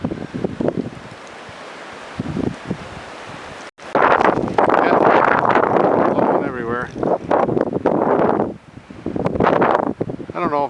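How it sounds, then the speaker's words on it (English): Gusty wind from a December snowstorm at Holland Cove buffets the microphone in rough, roaring bursts, with a person talking over much of it. "it's a blustery day in Holland Cove"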